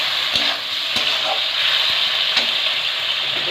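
Spice paste frying in a pan for a Bengali okra, potato and prawn curry sizzles steadily after tomato and a little water go in, with faint stirring clicks through the loud, even hiss.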